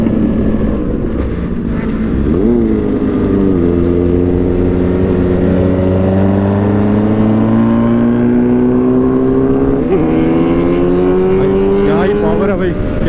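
Superbikes rev loudly and close by, their engine pitch rising and falling in sustained sweeps across the stretch while people talk over the roar.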